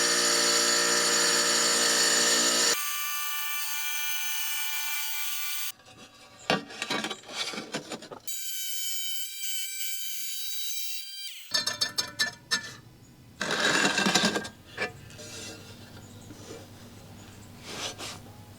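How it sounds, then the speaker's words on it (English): A Project Source 7-inch wet tile saw cuts tile: a steady, whining motor hum with a scraping, grinding cut that runs in separate bursts, stops and starts again, ending in rougher rasping passes. "The tile saw I'm using is by Project Source. This is 7-inch wet saw"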